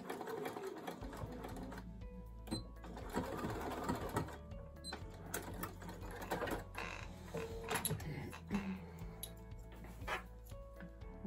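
A sewing machine stitches fabric along a seam in a steady, close mechanical run that pauses briefly and restarts, with a few faint clicks and creaks from the mechanism.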